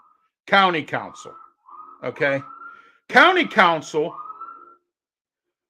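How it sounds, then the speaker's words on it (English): A siren's steady wailing tone drifts in between phrases of a man's speech, heard faintly in the gaps and running beneath his voice. "I'm sorry about the sirens"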